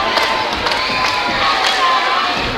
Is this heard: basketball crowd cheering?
yes